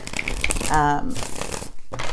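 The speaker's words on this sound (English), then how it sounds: "Let me just shuffle this a little more" Tarot cards are shuffled close by in a quick crisp riffle with papery crinkling, set among soft speech from a single voice.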